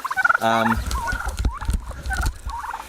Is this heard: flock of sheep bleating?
no